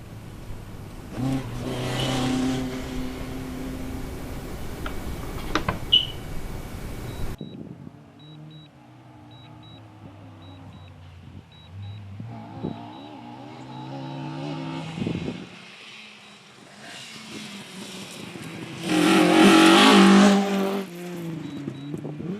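Ford Escort rally car at the Chepstow rally, driving on grass and tarmac, engine revving near at first, then a quieter stretch with distant engine tones before a loud roaring pass.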